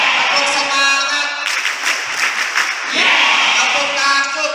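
A room of boarding school students performs a patterned clap chant, rapid rhythmic bursts of many hands clapping together with voices chanting along, loud and near.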